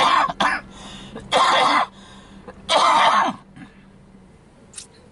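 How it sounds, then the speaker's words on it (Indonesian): Three loud, harsh coughs in succession with short pauses between, close to the listener, followed by quieter breathy noise. "maaf, ada batuk sedikit mengganggu"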